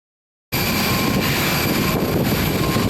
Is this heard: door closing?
no